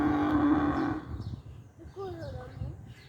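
A calf moos, calling for its mother, with a drawn-out bovine bellow near the start, then a voice talks nearby and a fainter rising-and-falling call follows outdoors.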